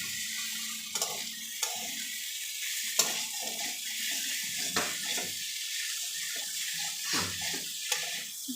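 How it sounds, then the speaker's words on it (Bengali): Spices and potatoes sizzling in a pan for a rui fish curry, with a low hiss under frequent stirring scrapes and spoon knocks against the pot, no talking. "মশলাটা কষানো হচ্ছে।"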